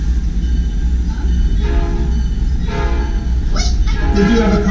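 A New Hope Ivyland Railroad train rolls along in motion, a steady low rumble with faint rail clatter and a brief horn-like tone partway through.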